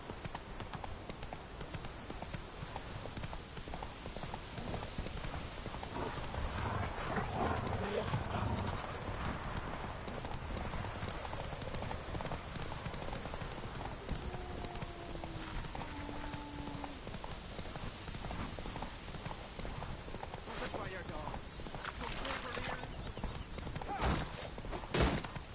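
Hooves clip-clop steadily under a continuous wash of wind and ambient game sound as the horse Roach travels in The Witcher 3. The footfalls sit in the middle distance, with a voice briefly heard.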